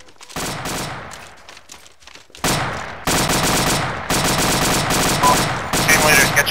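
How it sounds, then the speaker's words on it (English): M60 machine gun firing in Arma 2 during a beach landing, loud sustained bursts of rapid automatic fire broken by short pauses, with other gunfire around it. "Hey, M60 gunner, you're just shooting the sky, man."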